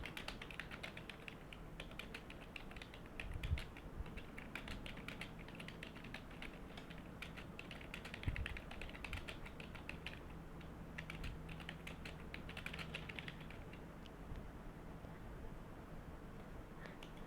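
Steady clicking of a computer keyboard as someone types code, a quiet, continuous patter of close keystrokes with no speech over it.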